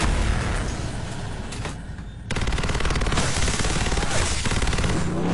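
Dense gunfire in a film shootout and chase, with sustained rapid bursts like machine-gun fire that briefly drop away before resuming loud and continuous to the end.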